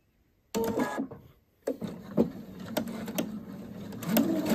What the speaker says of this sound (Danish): så syr jeg rynketråden ned og kører hernede i kanten, cirka en halv centimeter fra